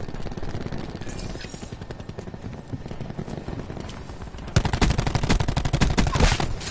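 Enemy gunfire at a hard point in a video game rattles as continuous rapid shots and becomes louder and denser partway through, with faint background game sounds.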